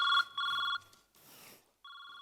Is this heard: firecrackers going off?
no